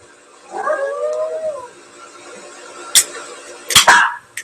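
Dogs howl from a played clip, a wavering drawn-out howl in the first second and a half, followed later by a couple of short, sharp barks or yips at moderate volume.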